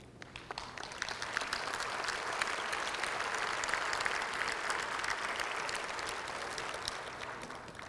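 A large audience at a chamber of commerce annual meeting and awards event applauds steadily, the dense clapping holding at an even level for the whole stretch.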